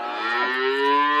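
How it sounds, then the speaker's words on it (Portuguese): Cattle on a rural smallholding, with one cow letting out a single long, loud, close moo that holds steady and rises slightly toward the end, with no other sound. "As vacas estão ali pra trás"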